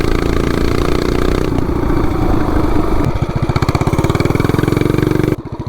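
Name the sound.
mini bike with 420cc engine accelerating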